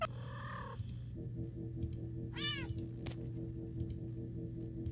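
Video game cat meowing while being petted: two distinct meows, a longer one first and a shorter rising one later, over a steady low game hum with faint ticking.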